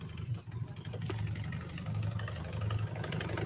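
A shovelhead motorcycle engine rumbles steadily at idle during a ride-by, a continuous low throb that holds fairly constant and close throughout, with no talk over it.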